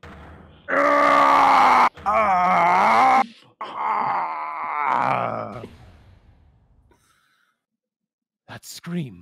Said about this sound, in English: I've heard that scream before.